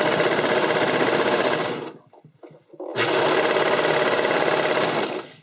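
A sewing machine stitches elastic onto a keyhole neckline in two fast, even bursts of rapid chattering, separated by about a second of near silence and soft handling sounds.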